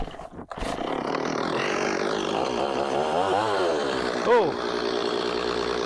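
A chainsaw limbs branches off a poplar log with a loud, sustained engine roar whose pitch rises and falls as the chain bites, close by, while a voice briefly exclaims.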